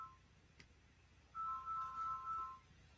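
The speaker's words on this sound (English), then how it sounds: "My phone is ringing." A phone ringing during a live stream: a faint, brief electronic ringtone with a few short repeating tones after a soft click, in an otherwise quiet room.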